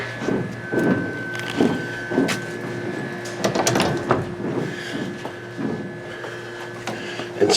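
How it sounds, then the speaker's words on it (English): Heavy, stiff St. Louis fire doors on a 1939 Salem manual freight elevator in Owens Hall, Virginia Tech, sliding and clanking as they are worked, with repeated thuds and rumbling metal scrapes across the whole stretch, close and fairly loud. "These are St. Louis fire doors and they're very heavy."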